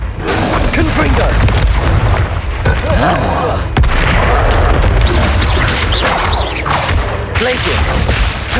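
Repeated booming blasts from the Confringo spell in Hogwarts Legacy, loud and continuous, piled on top of other combat effects, with a voice calling out spells throughout.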